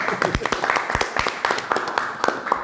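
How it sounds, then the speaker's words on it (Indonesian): A small group claps in a brisk burst of applause, dense overlapping hand claps close by, mixed with voices talking over them. "tepuk tangan untuk"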